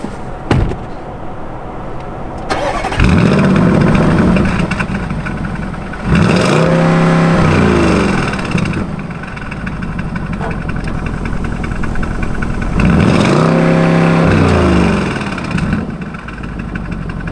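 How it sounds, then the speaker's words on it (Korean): Engine sound from inside a Bentley Bentayga S with a 4.0-litre twin-turbo V8: a deep hum under the cabin, swelling in several revving pushes that rise and fall, with steady road rumble between. "실내로 들어오는 엔진 소리도 어느 정도 좀 들리는 편이죠"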